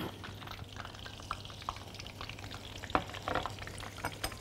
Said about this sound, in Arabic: نقلب كويس قوي.